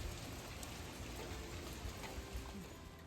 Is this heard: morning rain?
yes